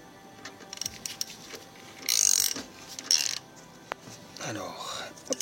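A ratchet wrench tightens a car exhaust part in two short bursts of rapid clicking, close by, between quiet pauses with faint handling noises and soft background voice.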